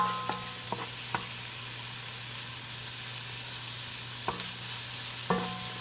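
Onions sizzle steadily in a pan over medium heat, a close, even frying hiss with a few sharp clicks and taps of a spoon or pan scattered through it.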